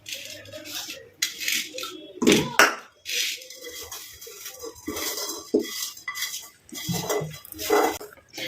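Homemade hair dye is scraped and clinked into a bowl with a metal spoon, giving sharp, irregular taps and scrapes close by, separated by brief pauses.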